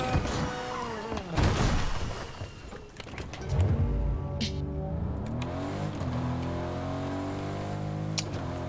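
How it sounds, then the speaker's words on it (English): A truck engine revs and surges in a Fortnite Zero Build match, loud and close, its pitch climbing and falling as it accelerates, with a few sharp game effects mixed in. "And we're gonna use this truck."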